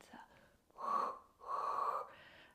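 Two long, audible breaths are drawn in and out during a calm pilates exercise, close and soft, with a short pause between them and no talking.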